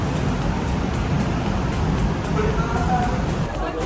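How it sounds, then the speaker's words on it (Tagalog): Steady road traffic noise of cars in the Greenhills shopping area, a continuous low rumble of passing vehicles with nearby babble of voices mixed in throughout. "Traffic."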